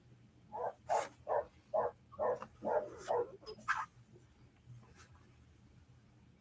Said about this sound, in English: if you can hear that dog, that's the little dog next door